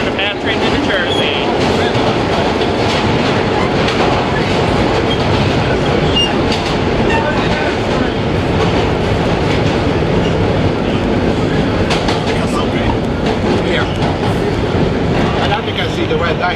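Vintage R1 New York subway car on a nostalgia holiday run from Queens Plaza toward 2nd Avenue, heard from inside as steady, loud wheel rumble and rhythmic clickety-clack over rail joints throughout, with faint voices in the car.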